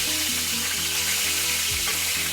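Shrimp egg rolls fry in hot oil with a dense, constant sizzle and crackle that fills the whole moment, close and even, with no voices over it.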